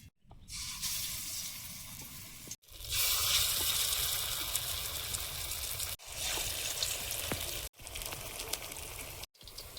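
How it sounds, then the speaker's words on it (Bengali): Pumpkin flower fritters fry slowly in a little oil, giving a steady close sizzle in several long stretches separated by brief silent breaks. "একটু দেরি করে করে ভাজছি"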